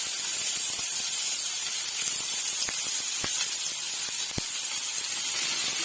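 Sliced onions dropped into hot oil with black cumin seeds sizzle in a steady, loud hiss, with scattered sharp pops and crackles spitting through the frying.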